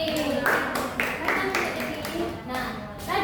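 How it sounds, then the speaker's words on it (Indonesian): A classroom of students clapping for a classmate after her presentation, a dense, steady patter of many hands close by, with children's voices chattering over it. "Tepuk tangan dulu buat Deli."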